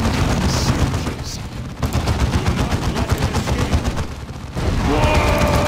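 Rapid bursts of gunfire during a boss battle in Warhammer 40,000: Dawn of War II, dense machine-gun fire that stutters, drops off briefly, then roars back louder with heavy booms.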